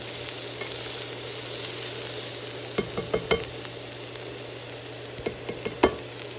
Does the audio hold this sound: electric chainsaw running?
no